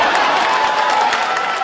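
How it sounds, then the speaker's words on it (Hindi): A crowd at a political rally breaks into sustained applause, a dense, loud wash of clapping with faint cheering that fills the whole moment without letup. "ताली ठोको"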